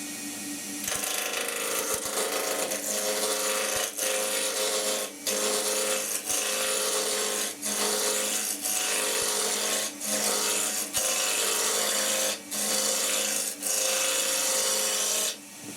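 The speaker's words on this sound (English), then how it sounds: "let's start the lathe up and we'll do a bit of spindle work first. We'll use it as a roughing out gouge" Ashley Iles All Rounder gouge roughing a wood spindle on a lathe: a loud, continuous rasping cut, broken every second or so by brief dips as the tool lifts and moves along the spinning workpiece.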